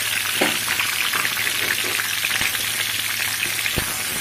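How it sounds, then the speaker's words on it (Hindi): Chopped onion and capsicum fry in hot oil in a kadhai, giving a steady, close crackling sizzle with occasional sharper pops and faint stirring scrapes. "मैं तेल डालूँगी और इसमें प्याज और शिमला मिर्च दोनों मैं एक साथ डाल दूँगी।"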